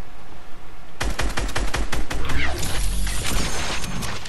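Rapid gunfire from several directions in a Fortnite match: after a quiet second, dense overlapping bursts of shots and cracks pile up loudly and continuously to the end.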